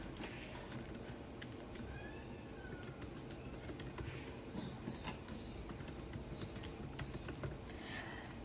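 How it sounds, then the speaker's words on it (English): Quiet typing on a computer keyboard while an email is composed produces irregular soft clicks and taps, faint and close. No one speaks. "you can compose email to other people. So in this case, I will write to Chandler"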